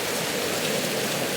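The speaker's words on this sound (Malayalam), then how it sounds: "നേരത്തെ ചാറ്റർ മഴ ഉണ്ടായിട്ട് ഇപ്പം നല്ല മഴയുണ്ട്" Heavy rain pours steadily outside, following earlier drizzle, as a dense, even hiss with no pauses.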